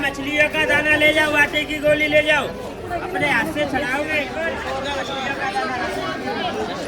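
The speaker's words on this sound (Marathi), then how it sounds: "गर्दी पण तेवढीच आहे यार, मला वाटलं गर्दी नसेल." Crowd chatter at Brahmand Ghat in Mathura, a dense babble of many nearby voices mixed with clear speech close by, busy and constant throughout.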